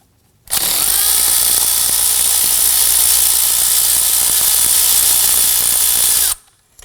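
Power tool whirring continuously for about six seconds while loosening and removing 10mm bolts near the top of the engine on a 2003-2014 Volvo XC90, loud and close with a steady high-pitched whine, no voices.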